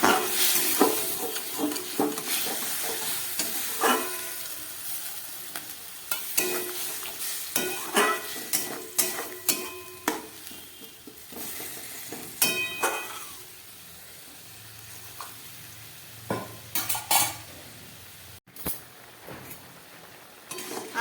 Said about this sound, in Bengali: এবার আমি আরেকটু ভাজবো